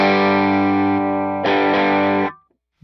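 An electric guitar played through a Line 6 HX Stomp overdrive on a fairly clean setting: a sustained chord rings out, then a second chord is struck and rings until it is cut off abruptly.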